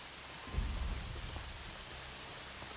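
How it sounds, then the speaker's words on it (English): Rain falls steadily in Horizon Zero Dawn, a soft continuous hiss with a low rumble swelling briefly early on, like distant thunder, and no talking. "rain is really, really happening right now"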